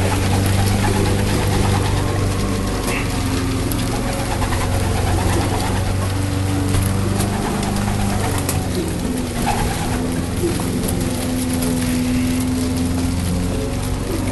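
Young pigeons being trained in 2012, heard as steady close cooing over a constant low engine-like drone, with no talk.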